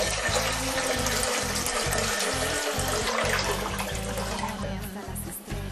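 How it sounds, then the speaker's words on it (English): Water pours steadily into a metal pot at close range, a loud continuous splashing rush that runs without a break and eases slightly near the end. "Then add your water to the pot."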